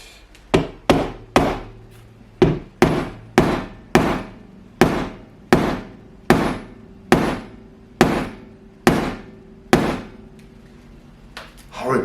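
A bolt struck repeatedly with a hammer to drive out a bridge bush from a Gibson Firebird guitar body: about sixteen sharp, ringing metallic blows at a steady, fairly quick rhythm, close and loud, with no talking.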